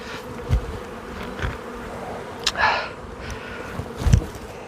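A swarm of honeybees buzzing nearby, a dense steady drone with individual bees briefly swelling louder as they pass close, plus a few dull thumps, with no voices.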